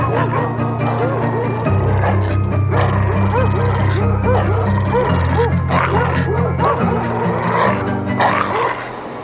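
Hunting dogs bark, yip and snarl as they attack a wounded animal, loud and close in a continuous frenzied chorus with a low rumbling roar beneath and a voice narrating over it.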